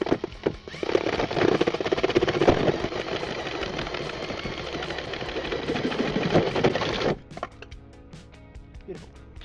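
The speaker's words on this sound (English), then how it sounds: "This adjustable hole saw is awesome" An adjustable hole saw cutting through board on a New Zealand construction build, a loud, continuous grinding buzz that runs for about seven seconds and then stops abruptly, leaving quieter background noise.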